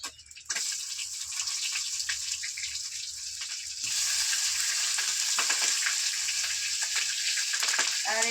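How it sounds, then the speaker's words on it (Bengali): Chopped onion and green chilli dropped into hot oil in a kadai for a Malabar spinach curry, a sharp burst of sizzling that swells louder midway and keeps hissing with light stirring clinks. "পুঁইশাকের তরকারিটা এই কড়াইতে বসিয়ে দিচ্ছি। পেঁয়াজ আর কাঁচা লঙ্কা দিয়ে দিচ্ছি।"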